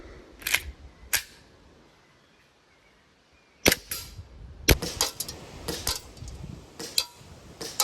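Sharp cracks from a WE EU17 Glock gas blowback airsoft pistol, fired freehand at about 20 meters: two shots, a pause, then a quicker run of six or seven snappy reports, near and loud.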